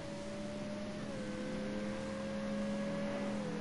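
A Ferrari race car engine from a racing video game at Bathurst holds a steady high drone, smooth and continuous with a slowly shifting pitch, fairly loud and alone with no voices.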